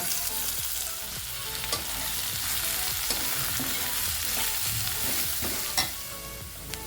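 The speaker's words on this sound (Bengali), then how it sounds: "কেটে রাখা যে পেঁয়াজটা রয়েছে সেটাও আমি দিয়ে দেব আর দিয়ে পেঁয়াজটাকে একটু লালচে করে ভেজে নেব" Chopped onion with black cumin sizzles steadily in hot oil, stirred with scraping utensil strokes and occasional sharp clinks, a constant close frying hiss with no voices, for a spicy amudi fish curry.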